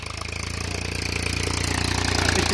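A tractor's diesel engine idles in a steady, rapid low chugging rhythm, loud and close, growing slightly stronger over a couple of seconds with no talk.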